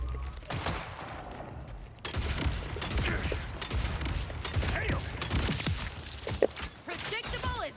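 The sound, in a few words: gunfire from a weapon in the video game Borderlands 4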